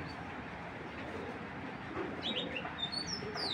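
Racer pigeons in a loft, soft cooing under a faint steady background hum, with a few high, thin chirps that come in toward the end.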